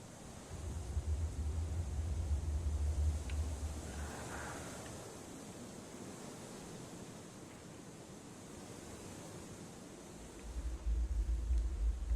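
Water pours down a waterfall in the Kholat game world, a continuous broadband rushing roar at a steady moderate level, with a low rumble swelling at the start and end.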